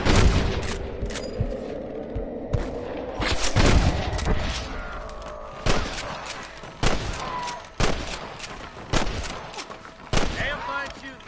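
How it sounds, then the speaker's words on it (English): Rapid gunfire in a Red Dead Redemption shootout, with dense overlapping rifle and pistol shots at the start, then loud separate bursts and single shots spaced out, close and punchy, with voices calling out between them. "Damn fine shooting, boys."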